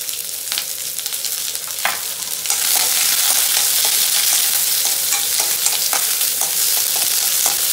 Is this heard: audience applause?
no